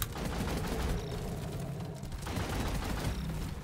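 Dense, rapid gunfire with explosive rounds in the video game Deep Rock Galactic, a loud continuous barrage of shots and blasts with a brief dip midway before resuming.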